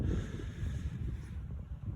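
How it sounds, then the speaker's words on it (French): Strong wind blows continuously outdoors, buffeting the microphone with a low, rumbling roar that stays loud throughout. "le vent s'est vraiment beaucoup levé"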